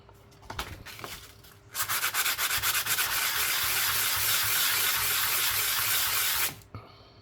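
Sandpaper rubs steadily against a Tunisian 100 millim coin being shaped into a ring, giving a close, continuous scratchy hiss for about five seconds after a few short rubbing strokes.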